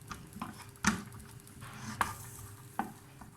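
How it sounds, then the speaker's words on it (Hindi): Onions sauté softly in a pan, a faint steady sizzle broken by a few sharp spatula scrapes and taps against the pan, with no voices. "ये प्याज को मैंने हल्का सा सौते कर दिया है।"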